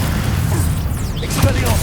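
A Bombarda blasting spell fires in the Hogwarts Legacy video game, a short whooshing burst and impact over dense, rumbling combat sounds, with a voice shouting the incantation.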